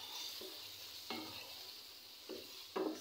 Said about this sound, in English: Then I'm going to stir up again.